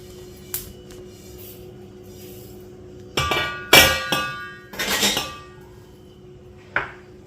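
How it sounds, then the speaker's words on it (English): Roasted cumin seeds are tipped from a pan into a bowl, making a few sharp metallic knocks and a cluster of rattling, scraping clinks in the middle, with softer taps before and after. "Now we transfer it into the bowl."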